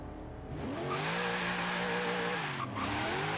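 A Chevrolet Corvette Z06 in Forza Horizon 3 spins its tires, a sustained loud squeal over a revving engine drone lasting a few seconds, with a brief dip near the end.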